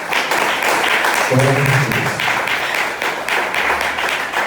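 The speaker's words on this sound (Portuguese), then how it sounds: "E aplaude o nome do Senhor Jesus." A church congregation at an evening service applauds in a continuous, dense wash of clapping that holds steady throughout, while a preacher's voice calls out briefly over it.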